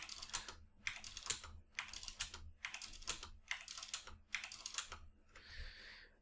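Computer keyboard typing in close, quick bursts of clicky keystrokes, about six clusters separated by short pauses, with no talking over it.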